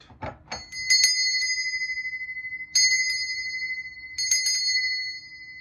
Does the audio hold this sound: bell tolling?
yes